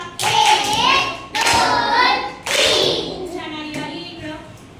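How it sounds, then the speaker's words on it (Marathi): A classroom of second-grade students claps in unison during a maths lesson, loud and close, in three distinct bursts, each ringing briefly before the next. "फक्त तीन टाळ्या वाजवा"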